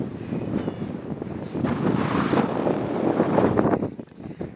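Gusty wind buffeting the microphone on the exposed Great Orme headland above Llandudno, North Wales, a steady loud roar that swells and eases in broad gusts with no voices.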